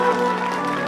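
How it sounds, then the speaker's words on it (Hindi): Steady applause from a crowd at a Bhojpuri live stage show, a dense continuous wash of clapping held at an even, fairly loud level throughout a brief moment. "एक निशा जी के नाम पे जोरदार ताली हो जाए"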